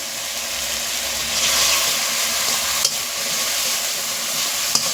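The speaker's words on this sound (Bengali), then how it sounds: "মশলাটা আমার কষানো হয়ে যাচ্ছে দেখো তেল ছেড়ে ছেড়ে যাচ্ছে" Spice paste fries in oil, a loud continuous sizzle with occasional stirring as it is cooked down for a village-style koi fish curry, with a couple of faint clicks near the end.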